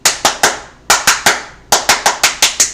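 Hands clap sharply in the 3-3-7 cheering rhythm, two groups of three followed by a run of seven, loud and close with no voices.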